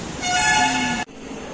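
A metro train pulls into the station and sounds a sustained horn toot of about a second over platform ambience, cutting off abruptly; a voice talks faintly nearby.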